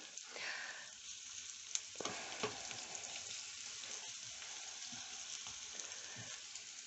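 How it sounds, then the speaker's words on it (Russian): Soy meat fries in hot oil in a pan with a steady, soft sizzle and crackle, occasional louder pops and faint stirring scrapes, heard close and continuous with no talking. "И обжариваем до какой-то такой легкой золотиночки."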